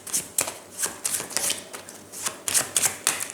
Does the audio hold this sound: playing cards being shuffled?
yes